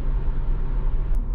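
Toyota Caldina GT4 estate car with a 3SGTE engine cruising at its 70 mph speed limiter, heard as a steady, loud low rumble of engine and road noise from inside the cabin, brief and unbroken.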